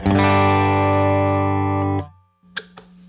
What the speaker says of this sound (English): This is just my bass tone.